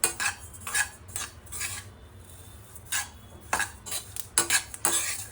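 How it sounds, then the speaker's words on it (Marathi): Sesame seeds roast in a pan for sesame modak, giving a series of irregular scraping stirs and light crackles at close range, with quieter gaps between strokes. "तीळ अशी भाजत आले ना की एक असा तडतड असा आवाज येतो"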